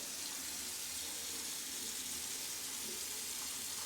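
Water runs steadily from a bathroom tap in a residential compound apartment in Jeddah, Saudi Arabia, a close, constant hissing rush with no talking.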